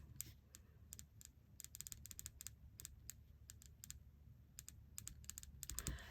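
Typing on a computer keyboard while noting a credit card payment, quiet close key taps in irregular bursts and runs over a faint background.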